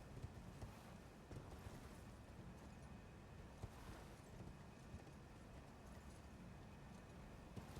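Horse hooves galloping in Elden Ring: Shadow of the Erdtree, a quiet steady rhythm of soft hoofbeats under continuous game ambience, faint and low in level throughout.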